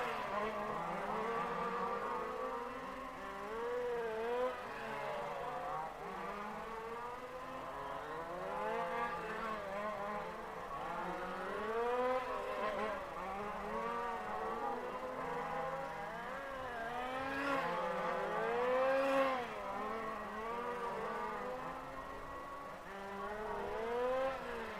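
Race cars lapping a track at a race car series event in Rucphen, their engines rising and falling in overlapping whines and doppler sweeps, a continuous distant drone over the whole stretch.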